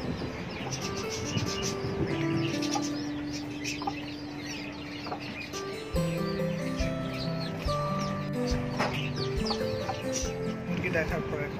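Colourful pet budgerigars chirp in high, scattered bursts among clucking chickens in a backyard bird enclosure, while someone speaks nearby.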